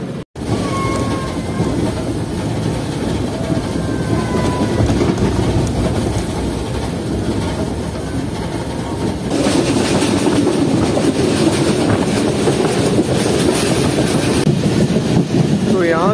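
The Baba Fareed Express runs at night on the overnight route from Rahim Yar Khan to Karachi, its wheels and carriages rumbling loudly and continuously, with a harsher, louder clatter toward the end. A voice speaks over the train noise.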